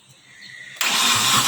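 A Proton Wira fitted with a new engine cranks and catches at once, then settles into a loud, steady idle that follows a quieter hiss of background.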